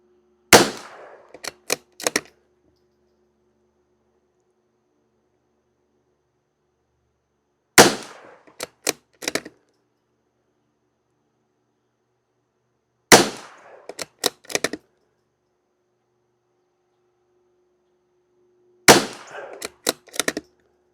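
A Savage Mk II FV .22 rifle fires target ammunition at a range: four spaced volleys of sharp, crisp reports, each a quick cluster of several shots, separated by long quiet gaps.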